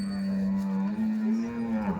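A cow at the Nalegaon cattle market in Latur gives one long, loud, steady moo that holds its pitch for about two seconds, with a faint murmur of the market behind it.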